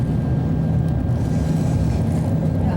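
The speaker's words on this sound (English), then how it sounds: "The engines are cranking up." Aircraft engines spool up at Frankfurt Airport ahead of takeoff, heard from inside the cabin as a steady, loud low rumble and drone that holds without break throughout.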